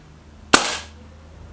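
A single sharp crack from a Walther Rotex RM8 .177 air rifle being fired, loud and close, with a short decaying tail and no talking.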